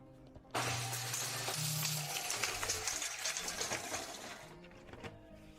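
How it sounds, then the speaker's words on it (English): Homemade pan-based grinder shredding firm, dry branches: a loud, dense, continuous crunching roar that starts abruptly and runs for about four seconds before cutting off. "Now I'm going to chop branches. They are firm and dry branches."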